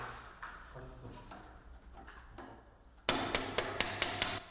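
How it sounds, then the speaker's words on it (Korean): Hammer strikes ring out during student assembly of a solar car at a university workshop, a quick run of about six loud, evenly spaced blows following quieter background activity. "망치질도 숙련된 솜씨로 뚝딱 해냅니다"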